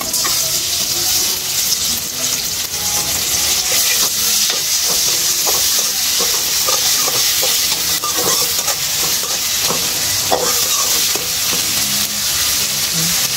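Garlic fries in a pan with a loud, steady, close sizzle, broken by scattered crackles and stirring scrapes, and no voices.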